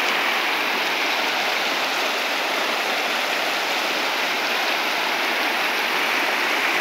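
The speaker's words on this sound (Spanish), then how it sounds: "está el río Cuistla de Crecido" Loud, constant roar of the flooded Cuixtla River rushing, a dense broadband wash with no pauses.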